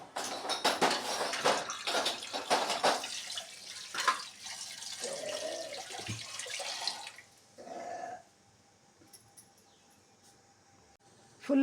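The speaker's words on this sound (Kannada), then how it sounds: "ಫುಲ್ ಕುದೀತಾ ಇದೆ ಈಗ" Mango masala curry in a pot gives off a loud, busy bubbling and spattering for several seconds, then quiets to faint simmering with a couple of soft clinks.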